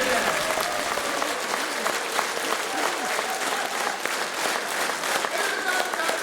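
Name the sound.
audience applause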